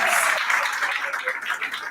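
Moderate audience applause at a women's dialogue forum, a dense, fairly even patter of many hands clapping that fades slightly toward the end.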